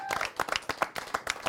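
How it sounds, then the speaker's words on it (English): Audience members at a comedy show clap briefly, with individual hand claps standing out clearly in an uneven, close rhythm. "Give them all a big round of applause."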